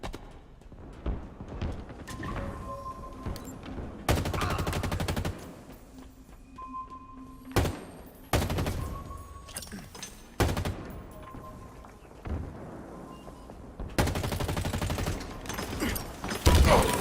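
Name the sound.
gunfire in the video game Halo Infinite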